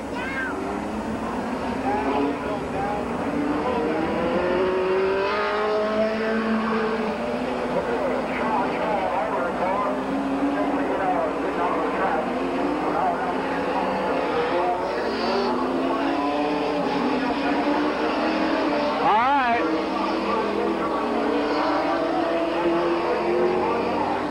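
Late model race cars lapping Midvale Speedway in 1988, a ten-car, ten-lap race: loud engine roars rise and fall as the cars sweep past again and again, with an announcer talking over the noise throughout.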